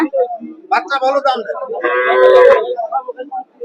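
A cow lets out a drawn-out low moo amid nearby people talking and general bustle at a cattle market.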